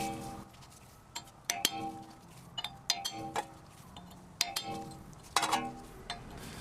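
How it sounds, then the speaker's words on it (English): A hand hammer drives a chisel on a Toyota hub during a manual hub conversion, producing a series of sharp metallic clinks and pings at irregular intervals, fairly close, with quiet between strikes. "now he's going to graduate to the bigger chisel and get even more movement."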